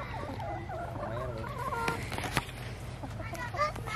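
Farm poultry, chickens and turkeys, clucking and gobbling close by in a steady, busy chorus, with children's voices and adult chatter mixed in.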